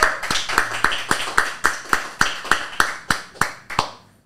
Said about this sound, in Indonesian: Boleh tepuk tangan sekali lagi buat Haryal Tanto.